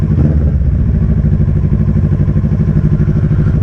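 A Honda CB250N Superdream motorcycle with a Predator exhaust runs with a loud, close, throbbing low exhaust rumble and rhythmic engine clatter, steady throughout with no talking.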